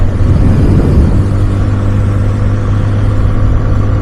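Road traffic in Saudi Arabia sounds as a loud, continuous engine drone and tire rumble heard from close by, with a slight rise around the start and no speech.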